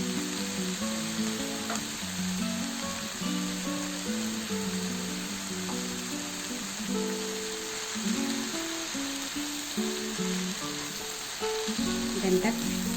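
Spinach and fenugreek leaves fry in a pan for a cabbage and moong dal dish, producing a steady, continuous sizzle with occasional stirring, while soft music plays underneath.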